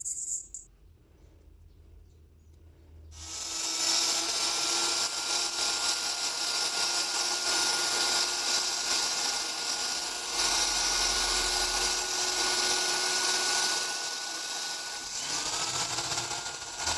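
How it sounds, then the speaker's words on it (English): After a few quiet seconds, a rotary drill fitted with a soft grit polishes the inside of a gemstone ring. It gives off a continuous, even whirring hum close by that runs to the end. "In the next step, I use a drill with a softer grit to remove scratches"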